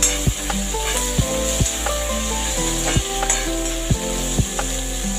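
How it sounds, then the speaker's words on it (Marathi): Curry leaves and onion fry in a pan for chapati chivda, a steady sizzle punctuated by regular sharp scrapes and taps of a spatula against the pan, with no talk. "मग नंतर कढीपत्ता घालायचा, मग नंतर कांदा घालायचा, चांगलं परतवून घ्यायचं।"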